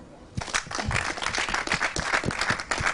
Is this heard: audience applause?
yes